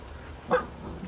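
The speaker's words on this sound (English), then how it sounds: "I had to get the puppy to stop barking." A single short puppy bark rings out briefly against a quiet kitchen background, fairly close and moderately loud.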